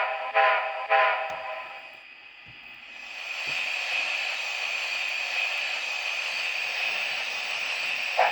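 Two short toots, then a sustained, breathy steam-style backup whistle from a Eureka Models AD60 model train holds steadily for several seconds at moderate volume.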